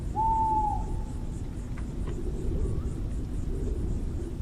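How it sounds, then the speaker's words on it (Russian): An owl gives a single clear, drawn-out hoot near the start, standing out over a steady low rumble of background noise with no other calls following. "Совы."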